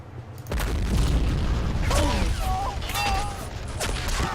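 A grenade explosion in the Men of War video game gives a deep boom, and a loud rumbling blast carries on under several whistling, sliding tones and a few later pops.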